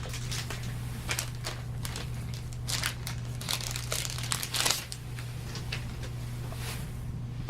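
Crinkling and crumpling of wrapping as a new paper pad is opened, close by, in irregular bursts against a steady low hum.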